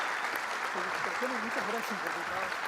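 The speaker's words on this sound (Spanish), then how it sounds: "le pedimos un fuerte aplauso en estos momentos" Applause from a conference audience rolls on as a steady wash of clapping, with a voice speaking over it partway through.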